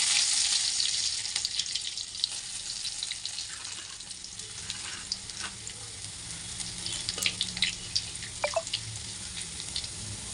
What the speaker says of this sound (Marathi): आपला लसूण पण फ्राय झाला चांगला.